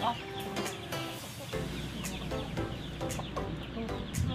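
Native chickens cluck and squawk close by in a busy, cluttered countryside scene, with scattered sharp calls and background voices murmuring throughout.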